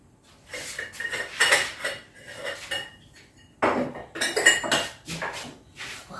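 Clattering kitchenware as a coffee maker is handled in a home kitchen, with several bursts of metallic clinks and knocks at close range, no talk.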